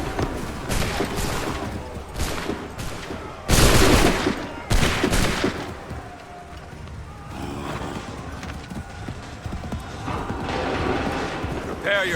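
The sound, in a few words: soldiers' musket volley in video game Assassin's Creed III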